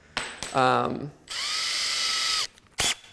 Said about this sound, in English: Drilling into the brick is like the bane of my existence